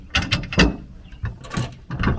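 A large 70mm bolt with a washer slides through a mounting rail on a Dodge Ram 2500/3500 short-box truck rail system, giving several close metallic scrapes and clicks in short bursts with no talking.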